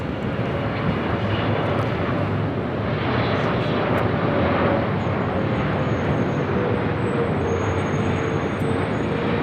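British Airways Boeing 777-300ER arriving from London Heathrow: a continuous, moderately loud jet engine roar that holds steady throughout, broad and rushing, with no voices.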